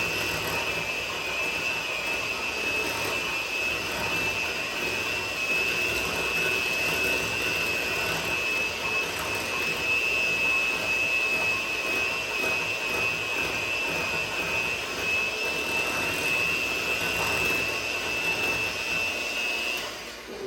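An electric hand mixer whirs without a break through egg yolks mixed for deviled eggs, holding one steady motor pitch close by with no talking.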